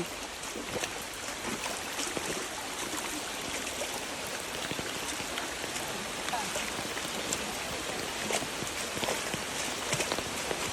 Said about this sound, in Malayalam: ഇതിതാ പുതുസാ വെള്ളം തോട്ടിലെ വെള്ളം